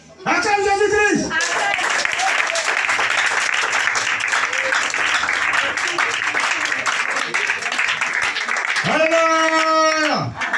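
A church congregation breaks into loud sustained applause and clapping acclaiming Jesus Christ, with a voice chanting or singing just before and again as it ends.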